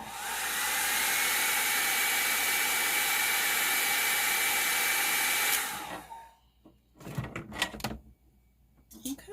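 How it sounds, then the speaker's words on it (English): A hair dryer blows loudly and steadily for several seconds over alcohol and acrylic ink, then switches off, followed by a few close clicks and handling knocks. "Then we'll get it hit with my blow dryer."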